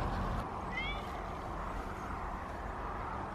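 A cat gives a single brief, faint meow outdoors, heard against a steady wash of wind and background ambience.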